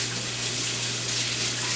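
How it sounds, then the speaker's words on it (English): A kitchen tap runs steadily as hands are rinsed under it, a continuous close hiss of flowing water with no talking. "let me rinse my hands real quick"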